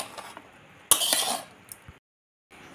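Chowmein being mixed in a pan, with a couple of soft utensil scrapes, then a louder metallic clatter and clink of stirring, a short gap of silence and faint rustle at the end.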